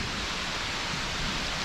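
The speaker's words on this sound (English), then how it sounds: "wait for the rain to go through. It's absolutely chucking it down." Heavy rain pours down during a thunderstorm on an overnight bikepacking trip, a dense, even roar of rainfall with no pauses and no voices.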